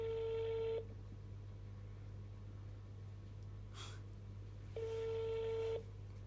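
A telephone ringback tone sounds twice, each burst about a second long with a long gap between, as an unanswered call rings out at four in the morning over a steady low hum.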